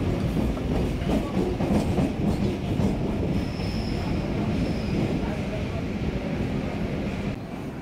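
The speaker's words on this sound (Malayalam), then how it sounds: "അങ്ങനെ നമ്മുടെ ട്രെയിൻ ഇപ്പോൾ ചെപ്പോക്ക് സ്റ്റേഷനിലേക്ക് എത്തിക്കൊണ്ടിരിക്കുകയാണ്." A Chennai suburban train rumbles and rattles steadily as it pulls into Chepauk station, heard loud and close from on board, with faint high squeals near the middle.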